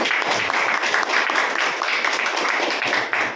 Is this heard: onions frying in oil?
no